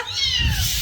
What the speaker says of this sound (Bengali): আমার বাচ্চাটা কাঁদছে কেন